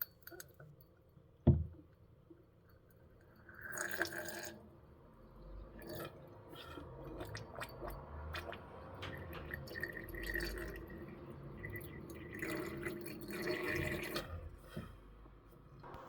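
Water is poured and trickled into a yellow-black graphene nanoparticle sludge, starting with a sharp splash, then soft drips and gentle liquid sloshing that run on quietly for several seconds without talking.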